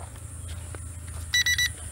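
Short series of electronic beeps from a drone controller warning of low battery, three quick tones near the end over a steady low background hum.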